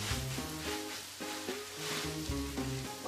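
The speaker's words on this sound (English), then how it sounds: "you're gonna just place your buns like this and let those cook. They get toasted" Hot dog buns toasting in a hot pan for Mexican-style street hot dogs, giving a steady broadband sizzle with low background tones running under it, close and fairly quiet, with no one speaking.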